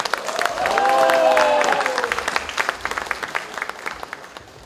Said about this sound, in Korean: 서로 큰 박수를 한번 부탁드리겠습니다.